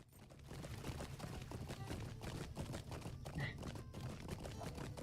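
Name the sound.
horse hooves clip-clopping in video game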